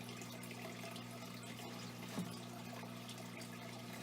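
Steady rushing water pours continuously into an aquarium tank during a water change, against a low electrical hum, even and unbroken throughout, with no voices.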